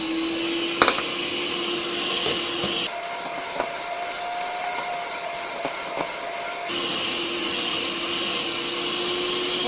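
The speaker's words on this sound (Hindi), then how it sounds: "अब इसमें कैस्टर शुगर थोड़ी थोड़ी करके इसको बीट करेंगे।" Electric beater whipping butter with caster sugar for an oven-free chocolate cake: a steady, close motor whine that jumps to a higher, harsher pitch midway, then drops back, running continuously without speech.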